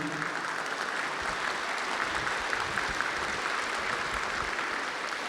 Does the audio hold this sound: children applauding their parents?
yes